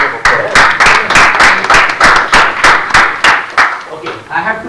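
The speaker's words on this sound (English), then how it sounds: "This is a round of applause." Audience applause at a business model validation talk, a steady round of clapping with sharp repeated hand claps that rise and fade over several seconds, loud and close.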